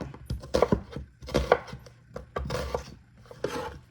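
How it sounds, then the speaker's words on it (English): An onion is roughly chopped with a knife on a board, giving irregular close thunks and cuts in quick uneven bursts. "And for this onion, we're going to chop too."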